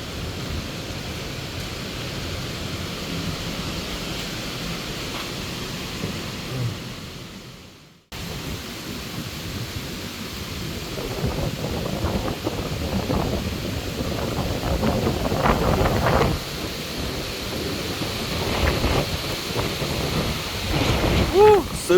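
Typhoon storm with strong gusting wind and heavy rain, a steady roar of noise with a brief dropout midway, then rougher buffeting and bursts of wind against the microphone.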